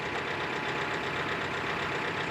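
A John Deere 4075R compact tractor inches slowly forward, its engine giving a steady, close, mid-pitched idling drone with a faint knocking texture throughout.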